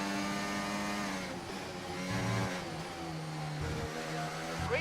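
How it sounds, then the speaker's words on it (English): Ferrari Formula One engine revving in the F1 24 racing game, a continuous loud mid-pitched engine drone with shifting harmonics and gear changes, close and steady throughout with no talk. "there seems to be a Ferrari engine going"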